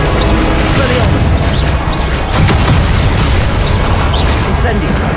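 A Confringo explosion spell cast in Hogwarts Legacy during a fight, a dense roaring blast wash that stays loud and sustained throughout, with crackling bursts layered on top.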